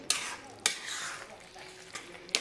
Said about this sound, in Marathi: मीडियम गॅसवरच परतून घेऊया हलवत.